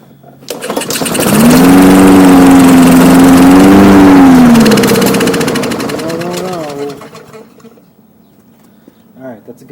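A Honda Lawnboy lawn mower engine catches and runs loud and close, a steady droning whine that rises and wavers before winding down and dying out, with a voice speaking near the end.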